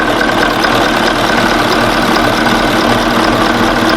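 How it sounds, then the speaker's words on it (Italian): An Iveco 190/35 truck's eight-cylinder diesel engine idles loud and close, with a steady, even throb throughout and no voices over it. "Ecco qua il suo motore."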